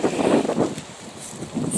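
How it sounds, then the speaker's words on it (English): Strong wind gusts across a kitchen garden. The rushing buffets the microphone in uneven surges, loud and close. "Oh, so windy."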